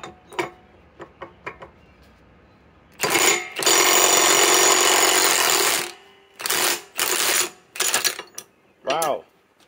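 Milwaukee M18 Fuel 2966-20 Gen 2 impact wrench with a 6 Ah Forge battery, about five years old, loosening a stuck nut: a long loud hammering burst, then several shorter loud bursts, with light clicks and handling noises before it.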